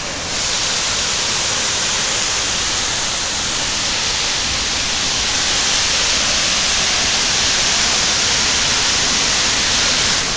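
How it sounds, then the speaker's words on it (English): Buracão waterfall in Chapada Diamantina, a huge cascade heard from high above the gorge floor, roars as a steady, loud broadband rush of falling water that fills the whole stretch without pause. "I will show you the waterfall."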